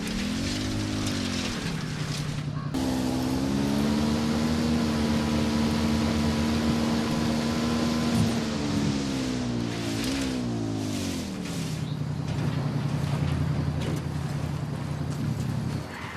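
Motorbike ride in Ghost Recon Wildlands, a steady droning engine note that rises in pitch and holds, then drops back, over a constant rushing noise bed.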